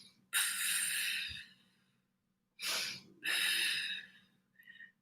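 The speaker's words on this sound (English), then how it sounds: "Short inhale." Short nasal inhales during a breathing exercise come as three quick, close breaths with pauses between them, followed by a fainter fourth, quiet and alone over a low hum.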